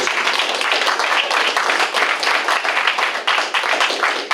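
A coffee house audience gives a warm round of applause after a concert, dense continuous clapping filling the room at full strength throughout, close and loud with no talk over it.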